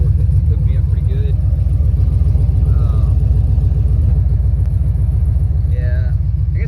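A 1993 Chevrolet Silverado with an LS engine swap, true 3-inch exhaust with V-bands, X pipe and MagnaFlow muffler, idling with a loud, close, steady low rumble while someone talks over it.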